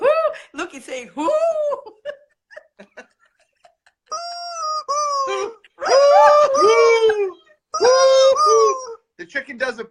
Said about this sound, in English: The chicken does it backwards. He does the whoo on the intake.